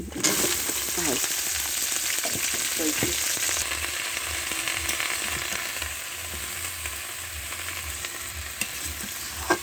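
Leafy greens, including drumstick leaves and Malabar spinach, frying in oil with dried chillies, giving a continuous close sizzle with a few stirring scrapes, no talking.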